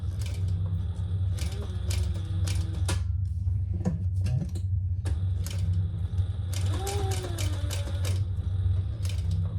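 Sewing machine top stitching a crossbody bag, its steady mechanical whir running through most of the passage with brief pauses and clicks as the stitching stops and restarts.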